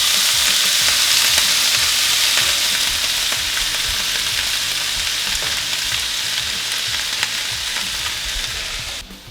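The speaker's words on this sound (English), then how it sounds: "I'm going to put all that into a cast iron skillet and let it start sizzling." Steady, loud sizzling of vegetables frying in a hot cast iron skillet for Cajun gumbo, a continuous crackle with small pops, cutting off at the very end.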